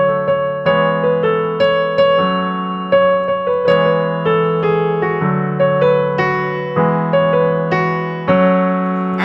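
Piano chord progression from a song, played as sustained chords that change roughly every second and a half, steady and clear with no voices.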